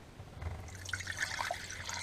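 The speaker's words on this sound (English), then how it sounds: "I'm going to add water." Water pours into a cooking pot over a corned beef brisket on a tray inside a NuWave oven in an RV, a steady close trickle with small splashes and drips running throughout.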